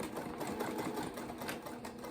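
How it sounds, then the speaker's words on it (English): A sewing machine runs steadily as it stitches a cotton napkin with a quarter-inch seam, making a continuous fast whirring hum with an even rapid rhythm that stays close and moderately quiet throughout. "I'm sewing with a 1/4 inch seam allowance."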